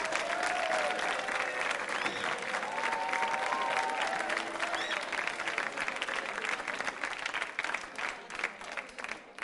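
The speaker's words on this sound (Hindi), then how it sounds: "तालियां बजाइए अपने लिए जोरदार तरीके से" A quiz show audience at a Republic Day special claps loudly for themselves in sustained, dense applause that thins slightly toward the end.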